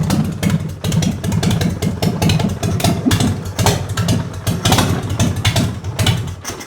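Harley-Davidson Sportster 1200 engine with electric starter running close by, a loud, lumpy, pulsing idle with a rough uneven beat and mechanical clatter.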